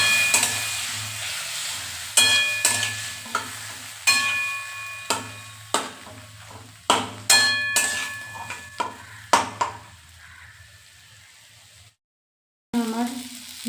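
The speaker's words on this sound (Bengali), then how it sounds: "মশলাটা কষানোর জন্য অল্প জল দিয়ে দিলাম।" Spice masala frying in a pan after a little water is added, heard as repeated sharp clinks and scrapes of stirring over a steady sizzle, a dozen or so strokes before a brief silence and a final clatter.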